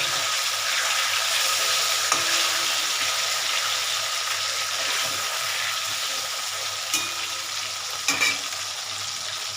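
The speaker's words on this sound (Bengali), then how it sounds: "এভাবে ভাজা করতে থাকি আমি মাছ ভাজাটা আমার হয়ে গেল" Fresh fish, likely aar catfish, sizzles and spits in hot oil in a pan, a steady dense frying hiss throughout with a few faint clinks near the end, no talk.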